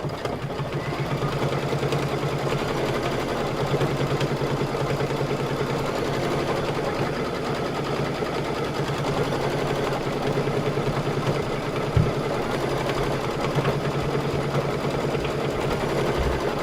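A sewing machine stitches fabric for a patriotic pillow, a steady close mechanical hum running without a break throughout.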